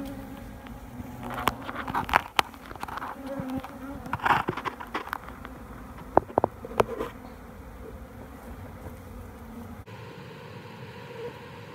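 Honey bees buzz steadily around an open backyard hive, a dense close swarm hum with sharper passes and bursts as individual bees fly near, continuing without talk.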